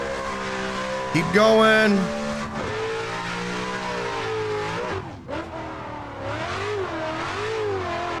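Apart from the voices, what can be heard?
car engine and skidding while drifting in the video game Assetto Corsa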